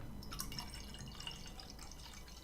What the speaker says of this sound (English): better pour a load in there because that was a proper gin and tonic measure